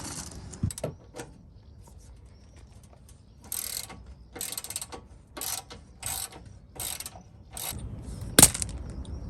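Socket ratchet undoing a transfer box bolt on a Land Rover Defender, bursts of rapid metallic clicking in repeated strokes with short pauses, close and clear, ending on a sharp clank, no talk.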